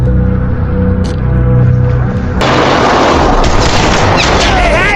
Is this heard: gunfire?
yes